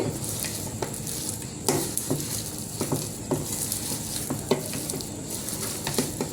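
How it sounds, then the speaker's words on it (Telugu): Mushroom pieces being mixed into pakodi batter in a bowl, with repeated wet squelching and soft scraping taps at an uneven rhythm, close and moderately loud. "మష్రూమ్ ముక్కలు వేసి ఇలాగా ఈ పిండి అంతా ఈ ముక్కలకి ఇలా పట్టేట్టు కలుపుదామండి"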